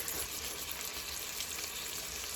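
Lamb chops frying in a pan on a narrowboat stove, a steady close hiss and crackle of sizzling fat with no break, alone without talk.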